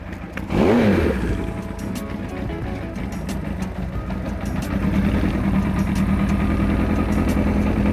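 A vintage motorcycle engine starts on the first try and settles into a steady, loud idle, a low throbbing rumble that continues without a break.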